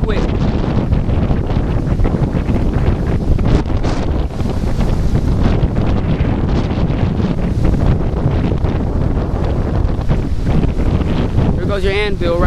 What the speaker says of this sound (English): This wind has turned very cold really quick